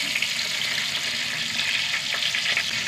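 Mustard seeds, fenugreek and dried chillies sizzle in hot oil in a pan, a dense, steady hiss with occasional faint pops, close and continuous throughout with no voices.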